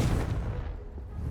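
A Confringo blasting spell explodes in Hogwarts Legacy, a single deep booming blast that rolls and fades over a second or so, heavy in the low end and alone without talk.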